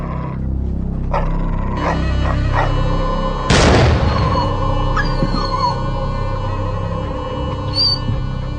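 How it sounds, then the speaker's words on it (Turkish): A dog barks and whimpers loudly nearby, with a sharp yelp and a burst of noise partway through. "Sustur şu iti dedim."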